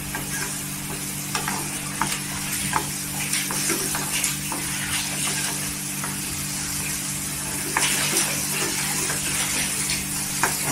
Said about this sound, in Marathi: पूर्णपणे मसाला तेलावर आहे ना तेल सुटेपर्यंत भाजून घ्यायचं